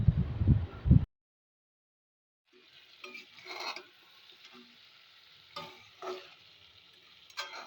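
Potatoes, half-boiled, being sautéed in a pan with dry-roasted coriander-cumin powder and kasuri methi: a loud burst of clatter, a second of silence, then soft steady sizzling with intermittent scraping stirs, no talk.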